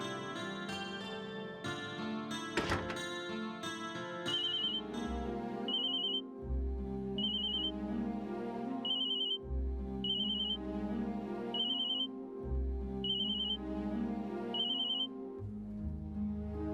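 A telephone rings in a quiet indoor scene of a dubbed drama series, a repeating electronic ringtone pattern of short bursts recurring steadily over music-like tones, fairly clear and alone without talk.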